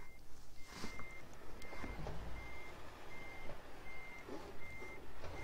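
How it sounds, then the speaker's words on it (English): Simulated truck reversing alarm in Euro Truck Simulator 2, a steady series of evenly spaced high beeps repeating over a low engine rumble, with rain-like background wash throughout. "This vehicle is reversing."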